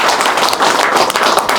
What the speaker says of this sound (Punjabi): ਜ਼ੋਰਦਾਰ ਤਾੜੀ ਇਸ ਗੱਲ